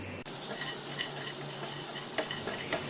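Finely chopped almonds, cashews and pistachios roast in ghee in a pan, giving a quiet, soft sizzle with light scraping and stirring taps from a spoon, and no voices.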